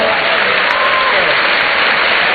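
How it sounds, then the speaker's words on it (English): A roomful of people at a student entrepreneurship programme launch claps loudly and continuously for themselves, a dense, unbroken roar of applause with some voices mixed in. "Can we give ourselves a round of applause?"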